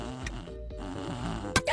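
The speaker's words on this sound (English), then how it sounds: "Homer's snoring kept Bart awake" Homer Simpson, the cartoon character, snores in a short comic sequence: a rhythmic, nasal rumbling snore with wavering tones, ending in a sharp burst of noise.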